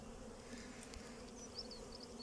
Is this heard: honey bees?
yes